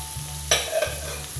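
Shrimp sizzling in a pan of stir-fried oncom with leunca and pete, a brief clatter of stirring breaking over a steady frying hiss, with a low hum beneath.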